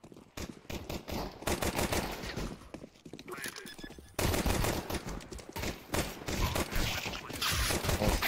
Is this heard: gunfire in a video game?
yes